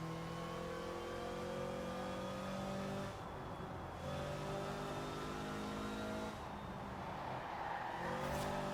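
Supercharged 1989 Toyota in Forza Horizon 4 with a loud, steady engine drone and high supercharger whine, revving and easing off twice as the throttle lifts, with no talking.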